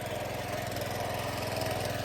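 A tractor engine runs steadily in a farm field while a girl drives it, a constant close mechanical drone with an even low throb throughout and no talk.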